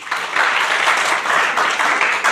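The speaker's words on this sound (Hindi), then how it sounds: "इनका जोरदार तालियों के साथ" An audience at a school NSS volunteer event claps in a dense, steady burst of applause lasting a couple of seconds, close and fairly loud.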